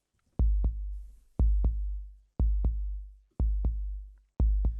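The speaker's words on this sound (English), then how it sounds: "So that gives you the heartbeat feel." A deep, booming heartbeat preset from a rhythm sample library repeats in slow double thumps, lub-dub, about once per second, with clean silence between beats.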